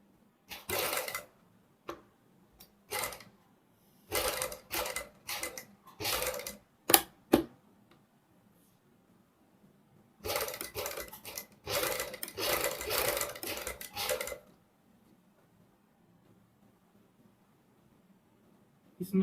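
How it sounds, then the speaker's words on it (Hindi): Sewing machine stitching lace along a boat neck blouse, running in short bursts of rapid mechanical whirring separated by pauses, with a longer stretch of steady stitching midway. "बहुत ही आराम से मशीन चलानी है ध्यानपूर्वक"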